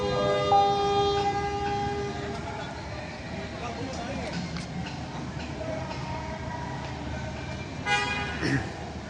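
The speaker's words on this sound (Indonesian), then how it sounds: "Aku di stasiun." At Gubeng train station in Surabaya, a busy platform hums with rail noise and a passing horn toot, with people talking throughout.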